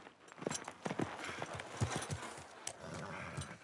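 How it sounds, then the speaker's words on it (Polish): Horse hooves clip-clopping at a gallop in the video game The Last of Us Part II, with an irregular run of thuds and an occasional brief whinny, fairly close and moderately loud. "Widać galopującego do niej na koniu Joela."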